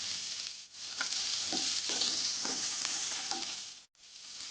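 Enoki mushrooms stir-fried with green beans and carrots in a pan, a continuous loud sizzle broken by a few spatula scrapes and stirring knocks, with one brief dip near the end.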